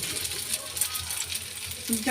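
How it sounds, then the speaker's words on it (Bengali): Greens frying in a pan with onion, garlic and chili, a steady sizzle with a few stirring scrapes near the end, no talk. "পেঁয়াজ রসুন লঙ্কা দিয়ে ভাজছি শাকটা"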